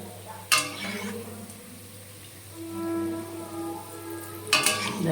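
Palm fruit fritters fry in shallow oil in a kadai, a steady close crackling sizzle with two sharper bursts of spatter near the start and the end.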